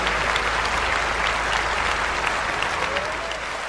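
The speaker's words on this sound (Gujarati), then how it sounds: "આપણે બધાએ આપણી જગ્યા પરથી ઊભા થઈને તાળીઓના ગડગડાટ કરવા જોઈએ" An audience gives a standing ovation after a stage performance, with dense, loud clapping from a large crowd that holds steady and fades slightly near the end.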